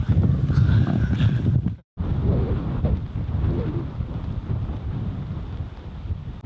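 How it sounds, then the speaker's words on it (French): Strong wind roars and buffets the microphone in a steady low rush at a kitesurfing spot in Tarifa, Spain, briefly cutting out before resuming, with no talking. "Je me suis fait fouetter par le vent."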